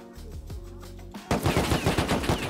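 Gunfire in the video game Rust: after a quieter start with a few soft clicks, a rapid automatic burst erupts, loud and close, with repeated rattling shots to the end.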